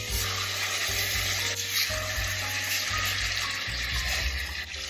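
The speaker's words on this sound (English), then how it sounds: "it's about to sizzle" Food sizzles in a pan of butter and avocado oil, a continuous close hiss laid over a low, pulsing hum, with no talking.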